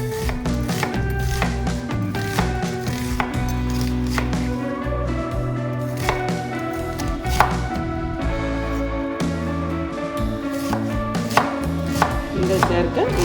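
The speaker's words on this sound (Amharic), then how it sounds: "እንደዚህ አድርገን እንከትፈዋለን።" A knife chops a yellow onion on a cutting board in rapid, steady, close strokes, a continuous run of crisp taps with no voices.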